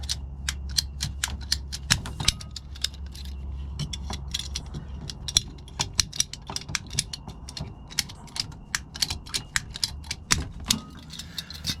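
Conduit cutters cutting through plastic plumbing pipe on an off-grid property, a rapid series of small clicking ratchet snaps over a low steady hum, fairly quiet and close with no talking.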